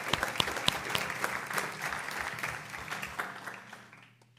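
Applause at a school board meeting congratulating retirees: steady clapping from a room of people, moderately loud, fading out toward the end.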